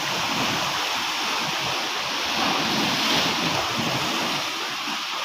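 Steady roar of ocean waves and surf with wind buffeting the microphone, a constant wash that swells slightly midway.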